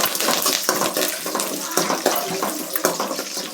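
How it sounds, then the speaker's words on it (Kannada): Peanuts frying in hot oil with dried red chillies and curry leaves give a dense, steady hissing sizzle with small crackles throughout, close and fairly loud, while a voice speaks faintly underneath. "ಶೇಂಗಾ ಫ್ರೈ ಆಗುತ್ತೆ."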